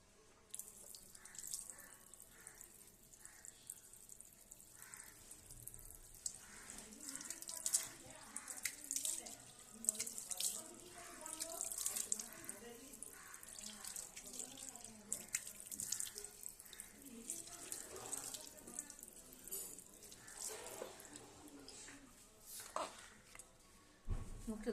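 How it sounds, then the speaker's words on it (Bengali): Tap water runs steadily into a sink during face washing, a soft continuous splashing and trickling with small drips, moderately close and fairly quiet throughout. "একটু মুখটা ধুয়ে দিচ্ছি।"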